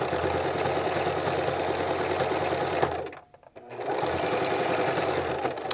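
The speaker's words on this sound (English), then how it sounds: "Needle down, foot down, and we'll sew." Sewing machine stitching fabric around a seam, running in a fast steady whir, halting briefly for a moment, then starting up again at the same close, loud pace.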